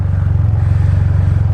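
The power windshield on a Can-Am Spyder F3 motorcycle hums as its motor drives it up, a close, steady low whir with a fast regular pulse throughout and no talk over it.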